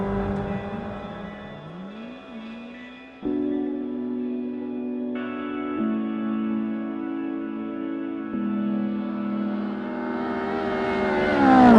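A sports car's engine pulls hard in fourth gear, its close, steady drone climbing in pitch for a long stretch with no talk over it.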